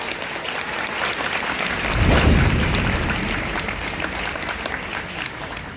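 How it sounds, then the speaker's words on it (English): An audience applauds for a speaker at a homesteading conference, a dense steady wash of clapping that swells briefly then holds at moderate loudness. "So let's give a big round of applause to Joel Fowler."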